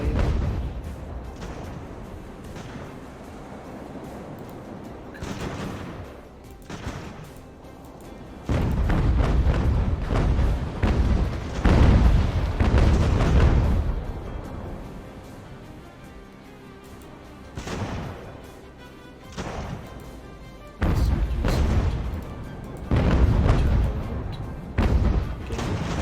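In the Ultimate Admiral Age of Sail video game, naval cannons fire repeated heavy broadside volleys in loud, rolling clusters, with quieter gaps of distant rumble between the bursts.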